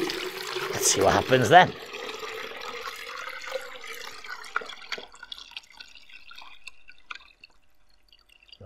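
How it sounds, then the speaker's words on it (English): Water poured from a 5-litre jug into a 3-litre jug, a short gurgling splash near the start followed by faint trickles and drips, with a voice speaking briefly over the pour. "So why don't I pour the 5 litres into a 3?"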